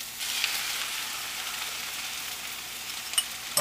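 Vegetables sizzle steadily in a hot pan, a constant close frying hiss with a couple of faint clicks near the end.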